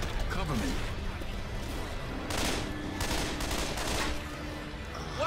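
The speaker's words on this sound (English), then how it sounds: "That was a lot of shots I just took" Gunfire in Left 4 Dead 2 comes as several bursts of rapid shots between about two and four and a half seconds, sharp and crackling over game noise, with players talking throughout.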